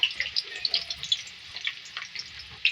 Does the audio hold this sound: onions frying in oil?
yes